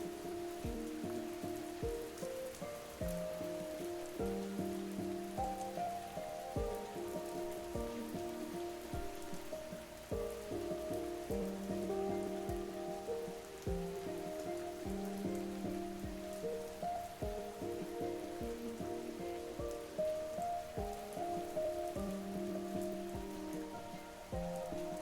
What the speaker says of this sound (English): Do you want me to turn off the rain?